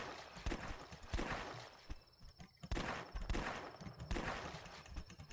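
Rapid bursts of gunfire ring out in The Last Stand, a zombie shooting game, the repeated shots coming in clustered volleys at moderate volume, with faint background noise between them.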